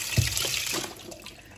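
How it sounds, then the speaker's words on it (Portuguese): Running tap water pours into a container of salt cod pieces set skin side up for soaking, a close, steady splashing flow that starts with a bright gush and then softens over a couple of seconds. "E agora vou virar assim as postas com a pele para cima e vamos encher de água"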